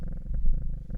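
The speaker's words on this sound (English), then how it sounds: "Pet the cat." A cat purrs steadily in the Strange Horticulture video game, a low, close rumble with a soft rhythmic pulse running continuously through the whole second.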